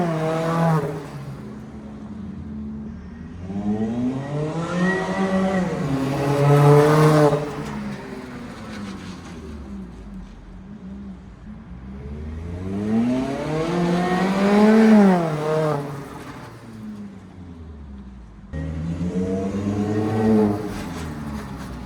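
A supercharged Mazda Miata ND2 with an Edelbrock supercharger and HKS Sport exhaust revs up three times, each burst a rising and falling engine howl, loud and close.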